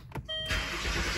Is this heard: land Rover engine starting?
yes